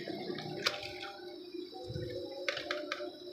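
Water is poured into a kadhai of moong chilka dal, about 1.5 litres. It makes a quiet, close trickle and splash with a few brighter drips.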